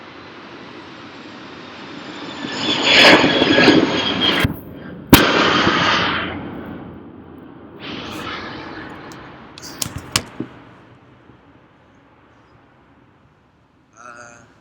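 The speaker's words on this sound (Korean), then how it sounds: "거의 뭐 비행기가 소리 장난 아니죠. 뭐 자주 지나갑니다." Airplane passing low overhead near an airport in Chiang Mai, Thailand: a loud swelling roar rising over a few seconds, then fading, with a sharp bang and scattered clicks as the noise dies away into quiet.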